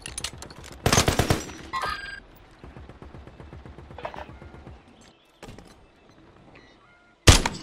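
Video game machine gun fire comes in sharp, loud bursts, with a quieter rattle of shots in between and a final abrupt blast at the end.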